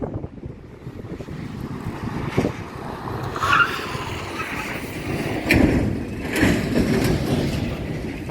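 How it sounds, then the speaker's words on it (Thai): Truck rumbling past along a road near a paper factory fence in Ban Pong, Ratchaburi, a broad rising and fading roar with wind buffeting the microphone and a voice talking faintly. "รถบรรทุกวิ่งมาน่ากลัวมากเลยเสียง"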